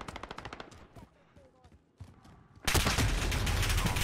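Rapid gunfire in Call of Duty Modern Warfare: a quick burst of close shots opens, sparse pops follow, then a sustained, loud volley of automatic fire fills the final second and a half.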